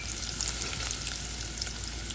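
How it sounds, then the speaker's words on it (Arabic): A small onion sizzling in a couple of spoonfuls of olive oil in a pot, a steady bright crackling hiss with scattered pops, close and even, no voices. "ورح احط حوالي ملعقتين زيت زيتون بالطنجرة. هلا رح اضيف بصلة صغيرة"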